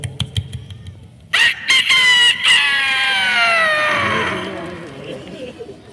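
A comic performer's voice imitates a rooster crowing, with one long, loud, drawn-out call that slides downward in pitch after a few sharp preparatory bursts, set against quiet background chatter.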